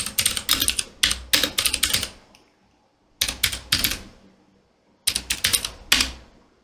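Fast keystrokes on a computer keyboard as a sudo command is entered on a Linux system, in three distinct bursts of clattering taps separated by short pauses, close and fairly loud with no talking.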